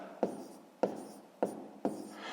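A pen writing a math answer on paper: four short scratching strokes at regular intervals, quiet and close, with no voice.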